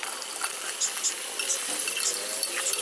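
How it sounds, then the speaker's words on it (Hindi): A big batch of chicken fries with onions in oil for an 8 kg spicy biryani, making a bright, even sizzle with small ticks and stirring clicks throughout. "2 से 3 मिनट मैं चिकन को भी फ्राई करूँगी"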